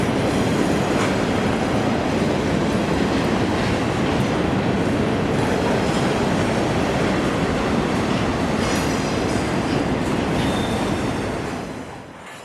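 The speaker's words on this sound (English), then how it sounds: "we have two different trains from two different railroads running together in the same spot with no warning" Two trains from different railroads pass together at one spot near Atlanta, a loud, steady rumble and clatter of rail cars that stays constant throughout, easing off slightly at the very end.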